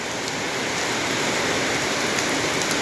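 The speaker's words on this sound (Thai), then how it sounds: "ฝนก็ยังตกลงมา" Dense, steady storm rain in Laos hissing down on surfaces, a constant close patter with no voices.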